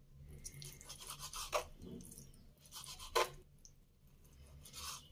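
Rinsed chicken being sliced into long strips with a knife: a few quiet, close scraping and rasping strokes, two of them sharper, with soft pauses between.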